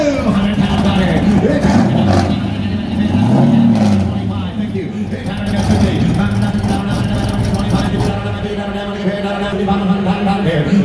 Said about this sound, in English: LSX 454 V8 crate engine putting out 627 horses